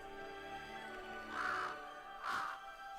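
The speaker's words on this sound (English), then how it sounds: "Oh, the crow again." A crow in the Demon Slayer anime gives two distinct harsh caws about a second apart over faint background music.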